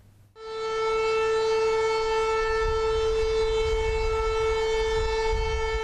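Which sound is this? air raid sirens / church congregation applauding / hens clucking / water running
air raid sirens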